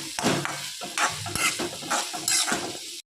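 Onion and tomato sautéing in a pan, a steady sizzle broken by repeated scraping stirs of a spoon against the pan bottom, close and loud, with no voices.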